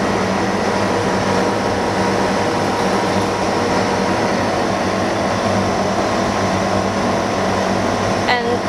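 Fan and filter unit atop a dust-free room used for phone screen repair, a constant loud airflow drone with a steady low hum, continuous and unchanging, with a brief faint click near the end.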